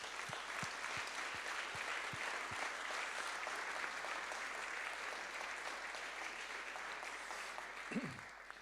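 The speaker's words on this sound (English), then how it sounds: "I think that deserves a round of applause." An audience at a formal charity speech gives a sustained round of applause, dense clapping from many hands that holds steady for several seconds before tapering off near the end.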